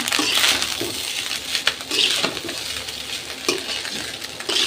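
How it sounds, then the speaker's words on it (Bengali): Leftover cooked rice fries in a pan with a pinch of cumin, hissing with a steady sizzle while a spatula scrapes and stirs in rough, repeated strokes close by. "ভাত ভাজতেছি"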